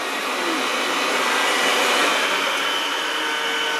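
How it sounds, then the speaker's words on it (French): Xiaomi Mi Robot vacuum cleaner running indoors, a loud, steady broadband whir of suction and motor that holds constant and alone throughout. "Je vais baisser un peu le volume de l'aspirateur"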